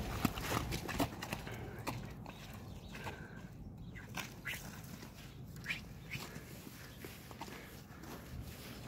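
Young Kyrgyz horse walking on the ground, irregular hoof thuds and soft steps at close range amid low background noise.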